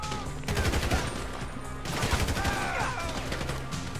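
Gunfire in GTA 5 during an FIB mission: bursts of rapid automatic shots crackle almost nonstop for about four seconds, loud and dense, with a brief lull near the middle before the volleys resume.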